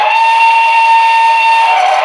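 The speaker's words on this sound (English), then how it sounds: "Oh, that's another horn." Loud, sustained steam whistle from a BLI PRR Q2 Duplex #6187 model steam locomotive's sound system, a steady multi-tone chord held for about two seconds with a breathy hiss underneath.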